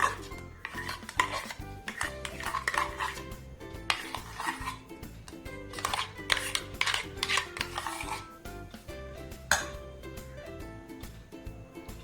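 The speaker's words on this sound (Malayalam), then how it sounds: "ഇനി ഇതൊരു പാത്രത്തിലേക്ക് മാറ്റാം." Thick ground batter is scraped from a mixer jar into a vessel, with repeated spoon scraping, rubbing and metal knocks against a steady hum throughout, close and without speech.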